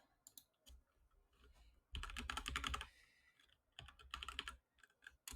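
Rapid bursts of typing on a computer keyboard while coding, with quick clattering keystrokes in two dense clusters separated by pauses, close-miked and fairly quiet, no talking.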